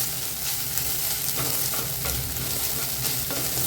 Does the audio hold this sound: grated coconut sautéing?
yes